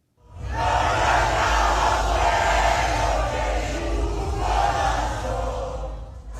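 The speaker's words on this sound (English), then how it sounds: "A large crowd gathered outside her hotel to greet her overnight. They sang the Venezuelan national anthem and waved to her." Outside a hotel at night, a large gathered crowd sings the Venezuelan national anthem together, a loud sustained wash of massed voices with a low rumble underneath, sounding close and continuous.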